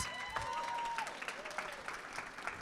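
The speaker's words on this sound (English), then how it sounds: "So give yourselves a round of applause." An audience claps steadily at a live Smart Cities Challenge event for the 20 finalists. The sound is a broad, even wash of applause, with a thin, wavering tone rising and falling above it.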